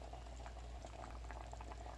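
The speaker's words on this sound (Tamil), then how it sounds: "ஒரு 2 நிமிஷம் கொதிக்கட்டும்" Chickpea curry (kadalai kuzhambu) boiling in a pot, a steady close bubbling and popping simmer with no voices.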